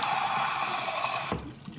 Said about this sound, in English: you just push down on it, and it just pushes the water up inside there